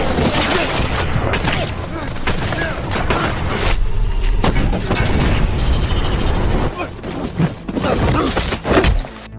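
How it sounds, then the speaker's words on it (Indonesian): Rapid gunfire rings out in an action-film manhunt scene: loud, dense volleys of shots and heavy booms with clattering impacts, packed tightly together for several seconds. "Kemudian mereka melancarkan tembakan secara beruntun."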